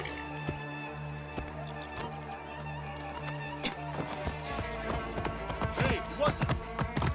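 Horse hooves clip-clop at a steady gallop in the ancient Egyptian world of Assassin's Creed Origins, a close, rhythmic pounding under game music and sparse spoken remarks, growing busier toward the end.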